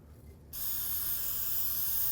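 Aerosol degreaser sprays steadily under the rear axle of a 2005-2009 Chevy Equinox, a sudden loud, continuous hiss starting after a brief quiet moment and holding close and even to the end.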